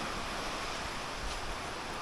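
Strong typhoon wind at night roars steadily into the microphone, a dense continuous rush of noise without any pause or voices.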